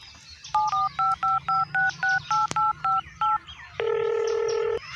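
A phone number is keyed in, eleven short evenly spaced touch-tone beeps in a quick row, followed by a longer steady ringback tone, close and clear over faint background hum.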